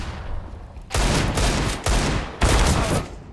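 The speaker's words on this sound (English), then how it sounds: "does get the Deagle headshot" Desert Eagle pistol fire in a competitive CS:GO match, loud close gunshot bursts arriving in three heavy blasts with dense, ringing tails and no voices.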